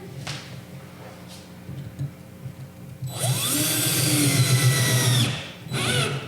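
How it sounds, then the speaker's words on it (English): A power drill drives a screw into wooden slats, whining as the motor spins up in a sustained burst after a few quiet knocks and handling sounds, then a shorter second burst near the end. "So we're going to hold the pressure down on both sides and just put our little screw in."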